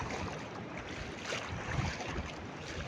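Strong, steady wind roars across the microphone over the broad wash of rough waves at sea in rainy weather, loud and continuous with no pauses.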